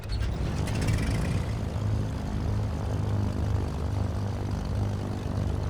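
Twin piston engines of a Milviz C310R in Microsoft Flight Simulator crank and catch, settling into a steady, loud propeller drone with a low rumbling throb close by; no talking.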